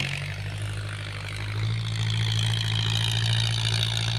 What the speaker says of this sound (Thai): ชมบรรยากาศการไถนา